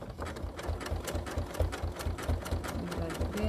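A sewing machine stitching couching through quilted fabric, its needle pounding in a steady rapid rhythm, close and moderately quiet, with no voices over it.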